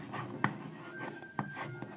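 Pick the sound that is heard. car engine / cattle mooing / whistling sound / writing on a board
writing on a board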